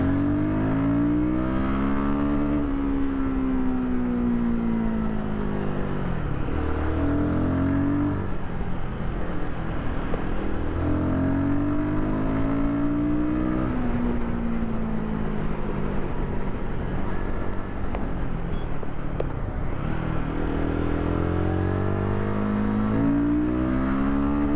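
A Royal Enfield Guerrilla 450 motorcycle engine, a 450 cc single, climbs repeatedly through its rev range, with rising engine pitch, gear changes and a slipper clutch in action, loud and continuous with wind rush throughout.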